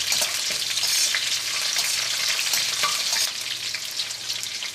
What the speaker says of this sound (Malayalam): ആ ഉലുവയും നമുക്ക് എണ്ണയിലിട്ടൊന്ന് മൊരിയിക്കാം.